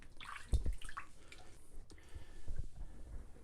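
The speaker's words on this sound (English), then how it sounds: "We'll make a little cavity in the brush and drop some water in." Water is dripped into the cavity of a shaving brush, giving a few soft close wet drips and squishy splashes over a quiet background.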